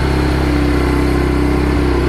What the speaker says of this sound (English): this is what it sounds like whenever it idles, and it does idle very high